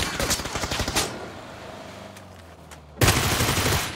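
Rapid sustained bursts from an M249 machine gun in PUBG, loud and close, that break off, leave a quieter gap with low engine hum, then resume abruptly with heavy automatic fire.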